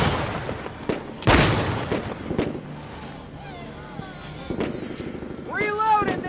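Magnum revolver in the video game No More Room in Hell 2 fires a few loud, sharp booming shots with a wind-like rumble and other game noise, plus a short burst of voice near the end.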